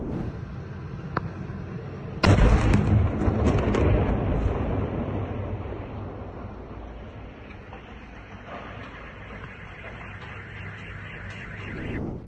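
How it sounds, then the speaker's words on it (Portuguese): Drone strikes hit a city, a heavy explosion bursting out loudly after a faint earlier thud, then a long rumbling roar that slowly fades. "Cidade estremeceu com fortes explosões."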